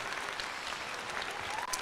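Crowd applause at a Houston Astros at Toronto Blue Jays baseball game forms a dense, continuous wash of clapping, fairly faint and distant, with no clear talk on top.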